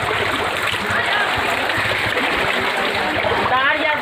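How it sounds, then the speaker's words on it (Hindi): Fast-flowing floodwater rushes and splashes through a flooded street and homes in Darbhanga, a steady, loud broadband wash that continues without a break. "देखिए कितना पानी तेज़ है"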